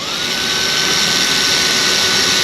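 A power drill with a large bit cuts through the gel coat of a boat, giving a loud, steady high whine that holds unbroken throughout, with no talking.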